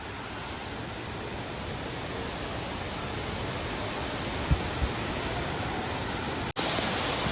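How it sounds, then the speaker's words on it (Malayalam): Jogini waterfall near Manali roars up close as a dense, steady wash of rushing water, loud and continuous, with a brief dropout near the end and no voices. "നമ്മളങ്ങനെ വാട്ടർഫാളിൻ്റെ തൊട്ടടുത്ത് എത്തിയിട്ടുണ്ട് കേട്ടോ."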